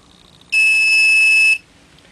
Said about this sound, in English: That beep indicates that it's now finished with the load